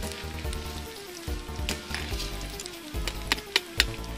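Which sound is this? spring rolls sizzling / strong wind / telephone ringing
spring rolls sizzling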